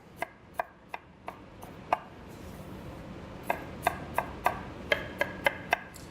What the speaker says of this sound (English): For your bean sprouts, just a rough chop.